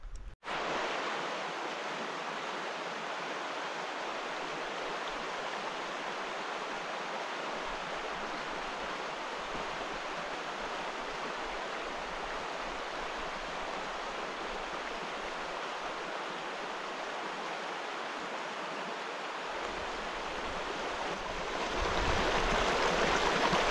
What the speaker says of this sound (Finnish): Mut sitten alkoikin kuuluu pauhu.